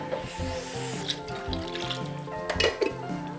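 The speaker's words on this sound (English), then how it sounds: "I'm gonna add a couple cans of water" Cans of water poured into tomato sausage corn soup in a cast iron pot, a continuous splashing gurgle with brief clinks, close and alone.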